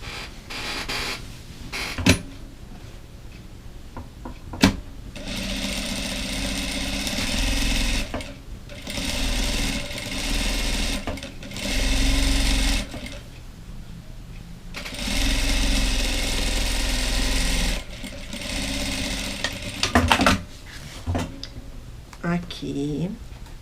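A sewing machine stitching a fabric dish towel runs in several sustained bursts of a few seconds each, separated by pauses, clicks and handling noises, with someone talking in between.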